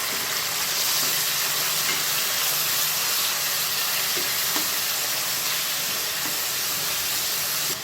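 Fresh mutton frying in hot oil in a pot for Karnataka-style mutton biryani made without tomato or curd, giving a steady close hiss and sizzle with faint pops, constant and loud, with no talking.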